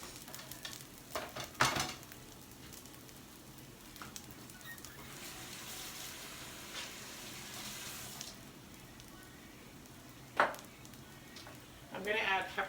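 Rice is toasted in a hot oiled pan for combination fried rice, a quiet continuous sizzle punctuated by loud utensil scrapes and clanks against the pan as it is stirred.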